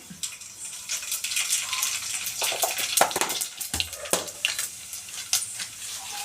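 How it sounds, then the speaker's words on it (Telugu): Crackling sizzle of cumin and mustard seeds popping in hot oil while tempering gooseberry pickle, bursts of sputtering rising and falling, close and fairly loud with no speech. "ఉసిరికాయ పచ్చడి తాలింపు పెడుతున్నాను. జీలకర్ర ఆవాలు"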